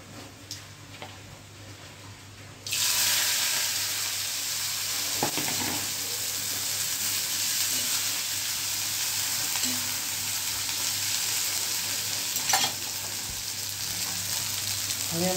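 Mustard seeds, cumin and asafoetida hit hot oil for a Gujarati thali side dish, bursting into a loud, steady, close sizzle after a quiet start. The frying crackles on unbroken, with a few sharper pops along the way.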